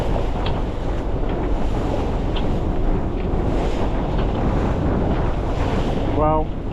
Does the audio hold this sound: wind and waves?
yes